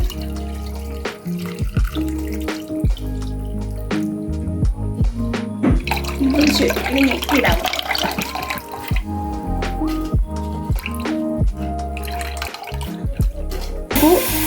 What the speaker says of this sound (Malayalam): ഇനി രണ്ടാമത്തെ പാലൊഴിക്കാൻ പോവുകയാണ്